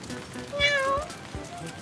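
A cat at a rainy campsite gives one clear, rising-and-falling meow close by, set against soft pattering rain.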